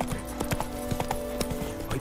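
Horse hooves clip-clop at a steady trot in The Witcher 3, close and distinct, repeating for about two seconds over a steady game background hum with faint music tones.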